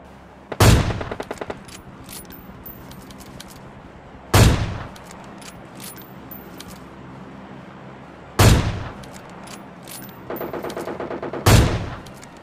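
AWM sniper rifle fire in PUBG Mobile: four loud, sharp single shots spaced a few seconds apart, each followed by a metallic bolt-cycling clatter and ringing tail.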